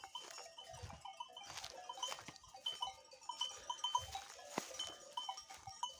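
Sheep and lambs bleat and call at a Turkish farm, several faint, scattered bleats at varying distances over soft background noise.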